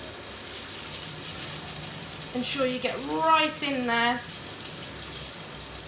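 Hot water runs steadily while a Pressure King Pro pressure cooker lid is washed with washing-up liquid, a constant hiss beneath a man's brief speech in the middle.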